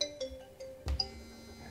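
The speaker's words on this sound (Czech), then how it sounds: "potom budu vemu ten telefon" Telephone ringing on a Slovak radio call-in show, a faint electronic ringtone with short repeating tones over a quiet background.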